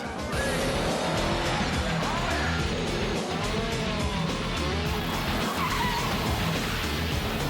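Classic rally cars sliding on rally tyres at a gravel-road event, with loud continuous tyre scrub, roaring engines and wavering squeals throughout, plus faint crowd voices in the background.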